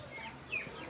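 Chickens clucking faintly for a moment, a couple of short calls over a low background murmur.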